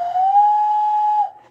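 A toy bird whistle sounds one clear, sustained note that rises slightly in pitch, holds for over a second, then trails off. The tone is loud and close.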